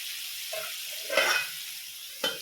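Tomatoes with turmeric and salt fry in a pan with a soft, steady sizzle, broken by a couple of brief scraping stirs close by, and no one speaks.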